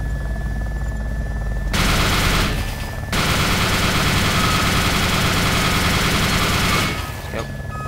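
Sustained automatic gunfire aimed at a vehicle in DayZ Overpoch, loud and continuous with a low engine drone beneath and a short pause partway through before firing resumes.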